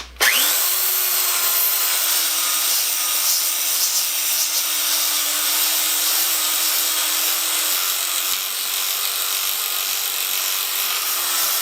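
A Zircon belt sander with a torn, nearly split belt splice runs steadily and loudly for the whole stretch, a continuous abrasive whine with a constant motor hum and no talk.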